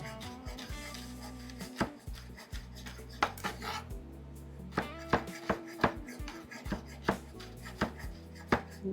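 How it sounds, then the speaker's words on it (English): Vegetables for green chicken enchiladas chopped with a knife on a board, a steady run of sharp, close knocks and thuds with brief pauses between strokes, loud and alone without talk. "I'm going to chop these here."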